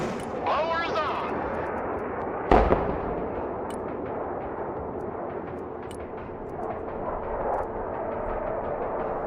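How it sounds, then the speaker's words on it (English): Airstrike explosions in the video game Broken Arrow: a sharp crackling burst followed by one heavy blast, then a rolling rumble with scattered distant pops, under radio chatter. "Airstrike is go for effect."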